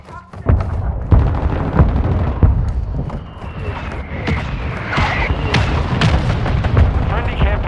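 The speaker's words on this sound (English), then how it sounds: "Our mortar strike is inbound." Mortar strike explosions in the video game Modern Warfare II land as repeated loud booms and thuds with sharp gunfire cracks between them. The blasts are dense and close and continue throughout.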